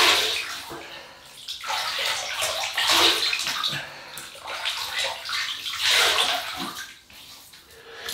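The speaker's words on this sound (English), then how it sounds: "So we'll wet the face." Water splashes and sloshes close by as hands wet a face before shaving with a double-edge razor, in steady waves of splashing with brief lulls, loud and without talk.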